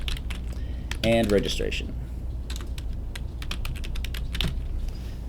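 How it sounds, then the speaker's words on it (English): Typing on a computer keyboard while working in Microsoft Word: a steady run of quick, light key clicks at close range, with a brief spoken phrase near the start. "And now we'll type our title, orientation"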